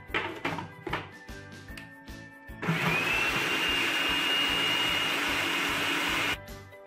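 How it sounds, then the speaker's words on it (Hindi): An electric chopper chopping onion and green chillies: a steady loud motor whir runs for several seconds, preceded by a few clattering knocks, then cuts off abruptly. "सबसे पहले मैं प्याज और हरी मिर्च को चॉप कर लूंगी चॉपर में।"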